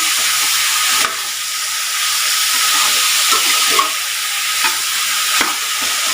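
Chicken sautés loudly in a pan with green chilies, a steady close sizzle and hiss broken by a few scraping clicks of a stirring spoon.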